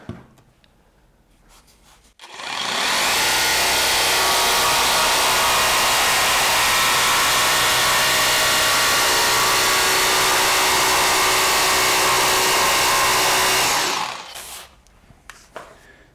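A Bosch Pro jigsaw cuts through 19 mm chipboard in one continuous loud, harsh buzzing run of about twelve seconds, starting abruptly and winding down at the end, with quiet handling noise before and after.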